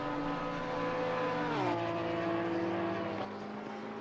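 Race car engine at Watkins Glen in an online racing league game, a steady high-pitched drone that drops in pitch at a shift or lift, then holds slightly quieter, with no talk over it.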